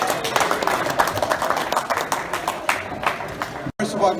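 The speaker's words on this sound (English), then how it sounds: "a big round of applause for the IBF Super Featherweight Championship" Applause and clapping from the crowd at a post-fight boxing press conference after the IBF Super Featherweight Championship, a steady dense wash of hands lasting several seconds with a brief dropout near the end.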